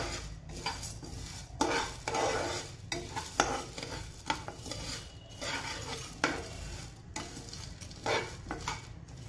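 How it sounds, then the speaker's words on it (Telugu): Sunflower and coriander seeds are dry roasted in a pan, with repeated scraping stirs of a utensil and a light crackle, rhythmic and close, without any talking. "దాంట్లోనే ధనియాలు, వేసుకొని బాగా డ్రై రోస్ట్ చేద్దాం."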